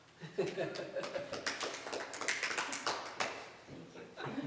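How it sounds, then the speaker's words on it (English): A small group claps briefly after someone takes an oath of office at a budget committee meeting, a scattered run of close, light hand claps with a chuckle, and people talking over it. "I feel like we should clap"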